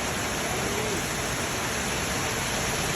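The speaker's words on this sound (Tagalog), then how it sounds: "Lakas ng ulan, sobra." Heavy rain pours steadily outside a home kitchen, a dense, loud, unbroken hiss with no individual drops standing out.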